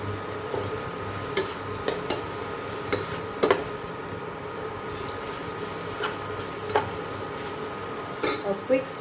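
Carrots sauté in a pot for a zero-oil Goan chicken clear soup, a faint sizzle running underneath as a spoon stirs and scrapes against the metal with scattered clinks and knocks.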